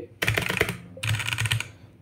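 Bursts of typing on a Redragon K617 Fizz mechanical keyboard: two dense runs of quick, clacky keystrokes separated by a brief pause, close and fairly loud, with no talking.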